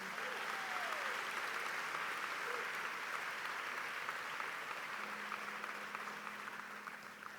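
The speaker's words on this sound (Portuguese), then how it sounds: "Você pode aplaudir o nome de Jesus, só para eu não ficar tímido aqui?" Congregation in a Portuguese-language church service claps for the name of Jesus, a sustained, even roar of many hands that fills the room and slowly fades toward the end.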